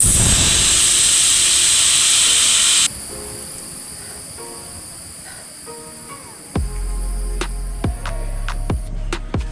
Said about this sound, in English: So I'll just release the entire air from the front wheel.